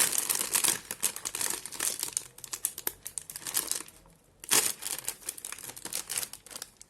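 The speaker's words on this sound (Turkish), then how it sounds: "Açalım paketi bakalım." A bag of Lay's Fırından potato chips crinkles and crackles as it is torn open, a close, busy burst of sharp plastic rustling with a brief lull near the middle.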